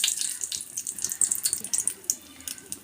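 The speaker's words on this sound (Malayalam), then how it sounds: "കുറച്ച് വെള്ളം ഒഴിച്ച് കൊടുക്കുക" Water pours into a pan of chili powder over a low flame while a mango curry is being cooked, a quiet close splashing trickle with small irregular bursts and no voices.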